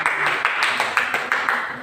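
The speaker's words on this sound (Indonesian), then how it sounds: "tepuk tangan untuk Uci" Rhythmic hand clapping for a student during a history lesson on Indonesia's Reform era, with steady, evenly spaced claps at moderate loudness and no other sounds.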